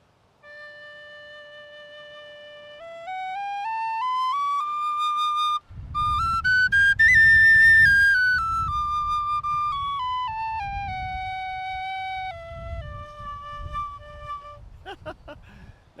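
A Susato high D tin whistle played outdoors, a clear stepwise scale rising and then falling in sustained notes, with heavy gusts of wind rumbling underneath partway through.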